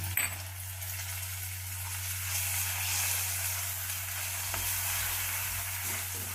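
Garlic paste and green chilli paste roast in a pan for black-eyed bean curry, a strong, continuous close sizzle and hiss over a low steady hum, with no one speaking.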